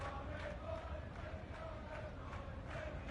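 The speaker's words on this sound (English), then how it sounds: "Got the Barmy Army cheering behind him." Cricket 22 match with the Barmy Army crowd, a steady roar of cheering and chanting spectators behind play, dense and continuous at moderate level throughout.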